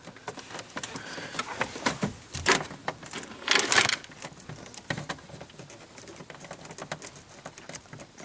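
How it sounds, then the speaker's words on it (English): Car electrical connectors are plugged back in and snap into place during starter-circuit troubleshooting, giving several sharp, close plastic clicks and small handling taps amid quiet rustling, with no talking. "Hear that click?"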